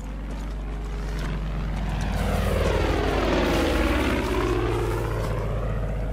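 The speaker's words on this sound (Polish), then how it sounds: "Wredny samolot, no." A propeller airplane in Far Cry 5 drones overhead, its engine swelling loudly as it passes close and then fading slightly, with a steady buzzing pitch that bends as it goes by.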